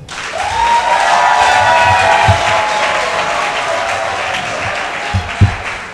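Loud applause with some cheering for two newlywed couples at a town hall wedding, a dense, sustained burst of clapping close by, with a high whistle-like tone threading through the first seconds.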